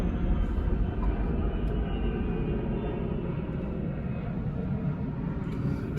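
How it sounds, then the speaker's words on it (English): An RAF military plane passes overhead, heard from a car as a steady, broad, loud rumble that holds evenly throughout with no voices. "RAF plane coming over."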